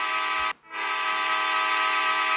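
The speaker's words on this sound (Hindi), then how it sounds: "हॉर्न भी देते हैं भाई।" A loud, sustained train horn blares in the game Indian Bike Driving 3D, cutting out for a split second before resuming and holding steady to the end.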